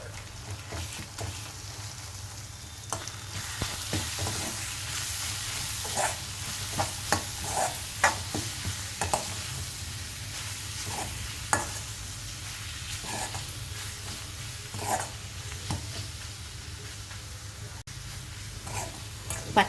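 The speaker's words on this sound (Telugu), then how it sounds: "పచ్చిమిర్చి పేస్ట్ వేసిన తర్వాత ఇది పచ్చి వాసన పోయే వరకు ఒక 5 నిమిషాల పాటు బాగా ఆయిల్లో మగ్గనివ్వాలి" Green chili paste with chili powder and salt cooking in oil for a brinjal tomato curry, a quiet steady sizzle with occasional stirring clicks and scrapes, low background hum throughout.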